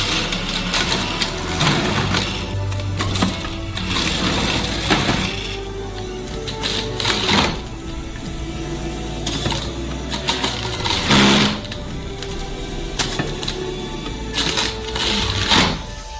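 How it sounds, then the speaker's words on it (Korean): Carrots being pressed in a juicer from a huge batch of thirty kilograms of peeled carrots: repeated mechanical grinding and clattering with bursts of crunching, steady and fairly loud throughout, no voices. "이제 과즙 짜는 기구를 가져다가 주스를 담을 컵을 놓고 당근에서 주스를 짜줘요."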